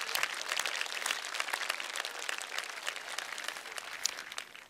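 Audience applause fills a university State of the University address: dense, steady clapping from a crowd that holds at an even level for the whole stretch with no talking over it.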